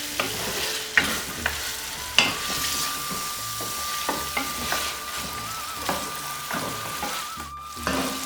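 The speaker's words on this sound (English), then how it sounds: "So now I have to increase the flame medium to high. So I have to fry it little bit." Saag gosht meat fries in a pan over a medium-high flame, giving a steady close sizzle broken by regular scraping knocks of a spoon stirring through the pot, with no talking.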